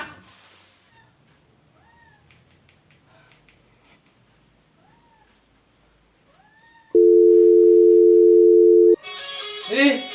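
A telephone gives a steady electronic tone for about two seconds after a quiet stretch with faint chirping sounds, then a person speaks.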